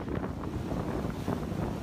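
Gusty wind over a lake rumbles against the microphone outdoors, a low buffeting whoosh with faint water sounds, no voices.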